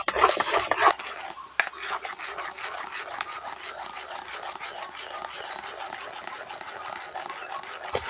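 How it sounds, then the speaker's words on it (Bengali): Raw mango pieces are stirred in a pan while making jelly, a close, repeated scraping and rubbing of a utensil against the pan that runs continuously after a brief louder start. "আমটাকে খুব ভালো করে নাড়াচাড়া করতে হবে।"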